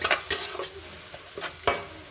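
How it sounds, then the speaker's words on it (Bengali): Chopped tomato with salt and tempering spices fries in oil in a kadai as a spoon stirs it, giving quiet sizzling with several sharp scraping strokes in an uneven rhythm, close and without talk. "এটাকে আমি নাড়তে থাকবো।"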